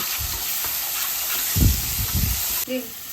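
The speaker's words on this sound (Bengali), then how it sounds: "মরিচের গুঁড়ো, হলুদের গুঁড়ো আর লবণ দিয়ে একটু ভেজে নিয়ে মশলাটা কষানোর জন্য জল দিয়ে দেব" Masala of cumin, chilli powder, turmeric and salt frying in oil for a catfish curry, a steady close sizzle with brief stirring scrapes and someone speaking over it.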